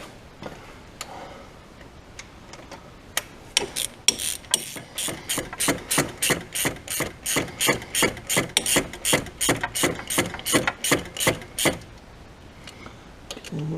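Bolts on a Mini Cooper R56 timing chain install are tightened with a ratchet, giving a long, steady run of rapid, crisp clicks close by, with brief pauses before and after.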